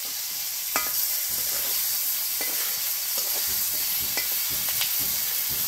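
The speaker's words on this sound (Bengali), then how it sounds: "আমার চিংড়ি মাছটা ভাজা হয়ে গেছে।" Prawns frying lightly in a hot pan, a steady soft sizzle with intermittent scraping stirs and clinks of the spatula, close and fairly quiet, no talk.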